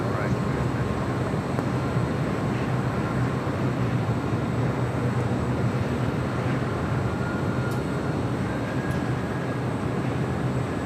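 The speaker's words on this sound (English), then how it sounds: "Condor flight 2086 coming in from Frankfurt. A330 Neo." A Condor Airbus A330neo arriving from Frankfurt at LAX, a steady loud broadband engine roar and rush holding throughout with faint radio chatter beneath.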